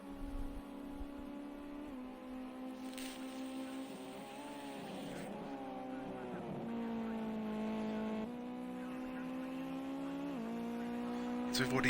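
A Ginetta Junior race car laps Oulton Park during qualifying, its engine a steady droning whine that rises and drops with gear changes and corners, heard from onboard with faint commentary over it.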